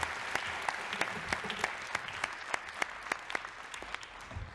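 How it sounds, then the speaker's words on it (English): Delegates at an Arctic Council ministerial meeting applaud, a steady patter of scattered clapping with distinct individual claps standing out, moderately distant and sustained throughout. "we need some applause"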